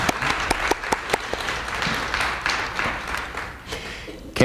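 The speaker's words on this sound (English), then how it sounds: "Let's give them a round of applause." A church congregation applauding its veterans, steady clapping from many hands that fills the space for several seconds and then tapers off, with a voice breaking in at the end.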